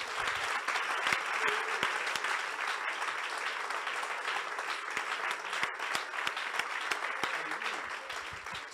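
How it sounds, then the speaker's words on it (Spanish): A large church congregation applauds continuously, dense clapping sustained throughout at an even, loud level. "Si ese aplauso es para el Señor, démoselo con todo el corazón"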